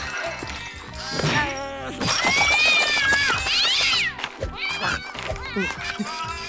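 A cat meows repeatedly while being washed and shampooed by an automatic cat-grooming machine, its rising, drawn-out cries coming close and loud in several bursts, with a voice speaking alongside.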